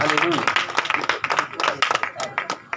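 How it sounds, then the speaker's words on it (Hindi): Congregation clapping loudly during a Hindi-language Christian worship service in Pathankot, fast uneven claps mixed with voices. "जोरदार ताली बजाएं, जोरदार ताली बजाएं"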